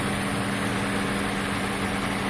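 A Toyota Prius engine idles steadily with a continuous low hum and vibration, running smoothly and close by with no talk over it.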